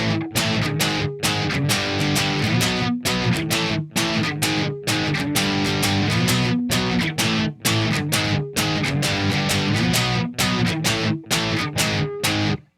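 Distorted electric guitar plays the pre-chorus of a song, loud chugging chords in a steady rhythm broken by short muted gaps, played alone.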